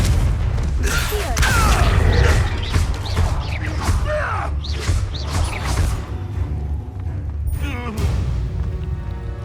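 Confringo fire spell blasts in Hogwarts Legacy, a string of loud booming bursts and whooshes with rattling, creaking mechanical clatter, repeating irregularly over several seconds with little talk.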